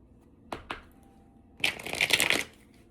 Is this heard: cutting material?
no